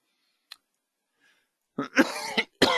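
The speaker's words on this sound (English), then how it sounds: "The ongoing cough here." A man coughs a few times close to the microphone, one short isolated cough followed by a louder burst of harsh coughing after a brief pause.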